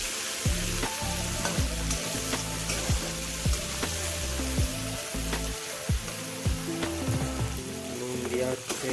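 Frying and stirring in a pan while making egg curry: a continuous loud sizzle with repeated scraping strokes of a spatula at a steady rhythm, close by, with no talking.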